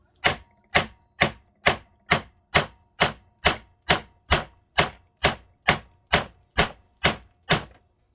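Small hammer tapping steadily while forging a tiny knife, about seventeen sharp, evenly spaced metallic strikes at a brisk rhythm, close and clear with no voices.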